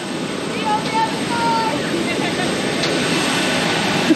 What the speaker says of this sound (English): We're getting onto the plane now.